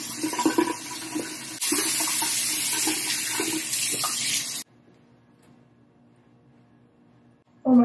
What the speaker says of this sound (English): Now we're ready to rinse off.